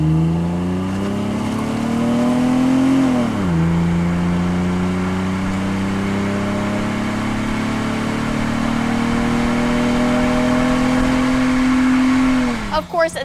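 A 1999-2004 SN95 Mustang V6 fitted with a budget dual catback exhaust conversion idles with a steady hum, revs up and settles, then holds a higher drone before dropping back.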